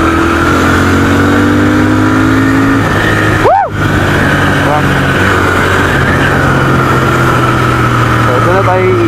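A Royal Enfield Continental GT650 motorcycle engine runs steadily while riding near a campsite, a loud continuous drone with wind rush and a brief dip partway through, with a voice talking over it.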